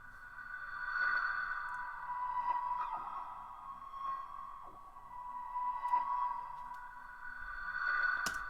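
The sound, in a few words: chopped pluck sound sample with reverb and delay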